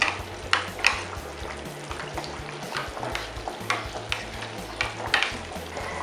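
A spoon scrapes and clinks in a pot as a thick flour mixture is stirred for a dry salted surmai fish curry, with irregular taps and soft swishing, fairly close, no speech.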